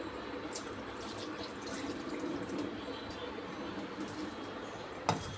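Water runs steadily in a soft, low hiss, filling a pot of soaking dal, with a small clunk near the end.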